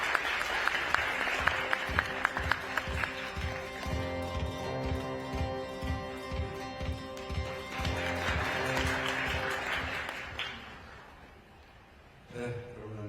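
Audience at a formal Korean policy forum applauding a speaker's introduction, a sustained hall-filling clapping that builds, holds for several seconds, then fades, followed by a short final burst of claps.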